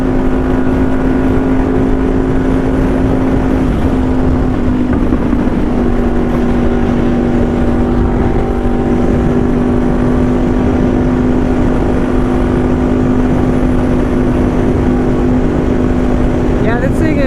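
A Honda VFR 800 sport motorcycle cruises at high speed with a loud, sustained engine drone, overlaid by steady wind rush.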